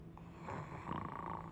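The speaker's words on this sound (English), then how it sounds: "Look at this guy snoring there." A character snoring in a Harry Potter video game, a soft, low rasping breath that swells and holds over a second and a half, faint and close with no talk over it.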